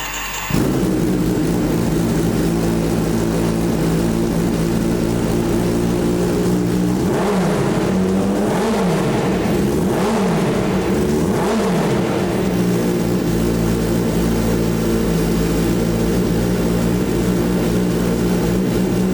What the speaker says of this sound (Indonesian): suara dari motor ini, karena motor ini sudah menggunakan dari Austin Racing knalpot